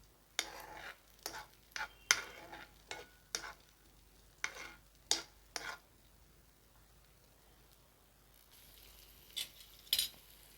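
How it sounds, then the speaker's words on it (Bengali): Cashews, peeled garlic cloves and a little tomato fry in a pan, with a dozen or so irregular scraping stir strokes and clinks over a faint, quiet sizzle; no one speaks. "চারকোয়া রসুন দানা ছাড়ানো একটু টমেটো দিয়ে এটা আমি ভেজে নেবো"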